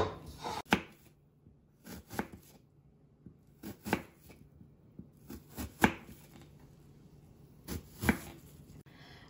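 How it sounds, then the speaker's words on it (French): A knife slices apples into thin strips on a board for a puff pastry apple square, with crisp chopping strokes coming in small clusters separated by pauses, close and fairly quiet, and no voice. "دونك راح نقطعوهم اون لاميل."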